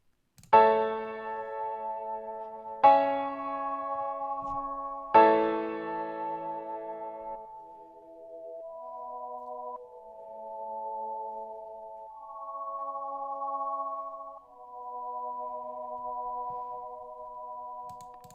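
GarageBand piano chords strike three times at steady intervals, each decaying into sustained ambient synth pads that swell and shift through several held chords, clear and alone.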